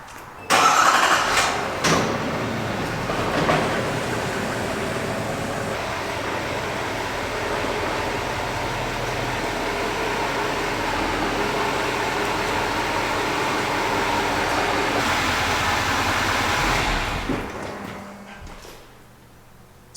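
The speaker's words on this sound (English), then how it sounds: "let's go ahead and pull the GMC in, and then we'll pull the Ford in" A GMC heavy-duty pickup truck pulls into an average-size garage, its engine running with a steady mid-range rumble for most of the time, a louder burst near the start and a fade to quiet at the end.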